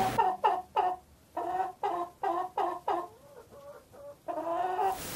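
A small brown hen clucks in a rapid series of short, loud calls close by, bursts coming in quick rhythmic groups with brief pauses, alone without talk.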